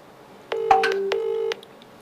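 A phone call ringing out unanswered: one steady electronic ring tone lasting about a second, clear and close.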